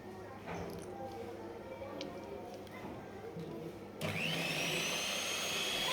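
People talk over kitchen background noise, then an electric mixer whirs on partway through, its steady motor whine beating a homemade chocolate cake batter flavoured with vanilla and chocolate essence.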